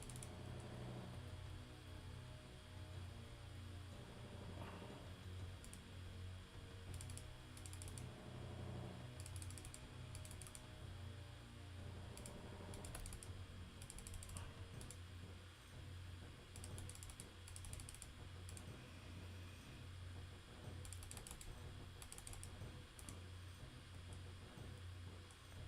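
Rapid clicking from a computer keyboard as someone types, the keystrokes ticking in uneven bursts over a steady low background drone throughout.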